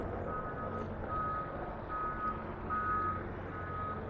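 Truck reversing beeps repeat steadily in a back alley where digging work is under way, the high tones pulsing over a constant low engine rumble and street noise.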